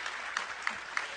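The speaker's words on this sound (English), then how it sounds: "a round of applause to yourself" Brief, fairly faint burst of audience applause at a developer conference (Google I/O 2009), a short wash of clapping with a few sharper individual claps standing out.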